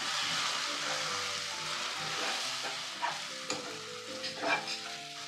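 Gongura chutney with sesame and fenugreek powder being stirred and fried in a pan, a steady sizzle under repeated scraping strokes of a spoon that grow more frequent toward the end.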